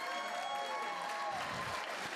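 Audience applause at a comedy show fills the room, a dense, steady wash of clapping that holds evenly throughout without a break.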